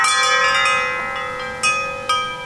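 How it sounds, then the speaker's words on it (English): A solar wind chime hanging outdoors by a chicken coop rings with clear, sustained metallic tones, a few soft strikes blending into lingering overlapping notes, with fresh strikes at about 1.6 and 2.1 seconds. "Found a really cool wind chime, so we added that in as well."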